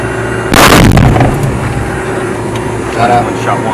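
A HIMARS/MLRS multiple rocket launcher fires a single rocket, a sudden loud roaring blast heard from nearby that fades into a steady engine and ventilation drone.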